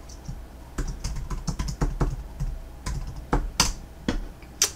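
A password is typed on a computer keyboard while setting up a Le Potato single-board computer: a run of crisp, irregular key clicks with a few louder strokes, close and alone with no talk.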